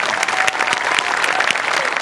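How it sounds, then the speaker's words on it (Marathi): A studio audience at a Marathi comedy show applauds a performance with loud, dense clapping that carries on steadily throughout, with no talk over it. "जोरदार टाळ्या."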